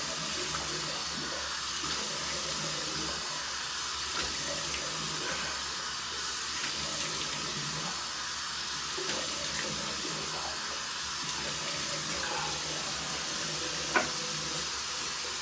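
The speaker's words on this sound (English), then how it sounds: "Let the water run on that for a little bit." Water runs steadily from a tap into a sink, a constant close hiss and splash that lasts throughout, with a small clink near the end and no talking.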